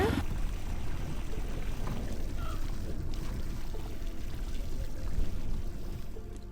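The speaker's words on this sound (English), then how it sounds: "And on the way down, don't miss the shower hot spring." Water pouring steadily at a shower hot spring in Iceland, a dense continuous splashing rush heard close and loud with no voices.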